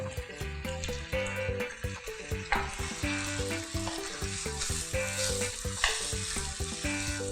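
Pasta with sausage and bacon is stir-fried dry in olive oil with salt and pepper, producing loud continuous sizzling and tossing under steady background music.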